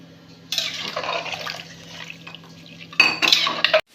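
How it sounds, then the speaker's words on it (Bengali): Potatoes go into a pot of hot water while making mutton curry, with clattering metal cookware and splashing in two bursts separated by a quieter stretch, under a steady low hum. "তাই আলুগুলো দিয়ে দিচ্ছি"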